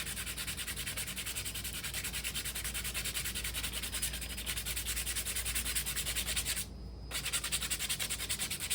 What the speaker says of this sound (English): Kind of just roll it in your hand as you kind of go back and forth with your sandpaper.